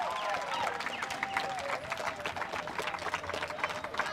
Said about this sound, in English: Let's give our players a massive round of applause for all of their hard work.